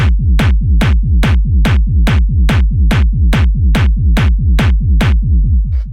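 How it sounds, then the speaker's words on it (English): Hard techno kick drum sample built from two layers repeats in a fast, even four-on-the-floor pulse, each hit punchy with a booming low tail, loud and alone. "After that, we have this kick, which sounds like this."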